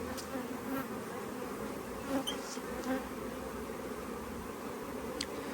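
Honeybees buzz around a hive at an outdoor bee school, a constant close swarm drone with individual bees passing near, alone without talk.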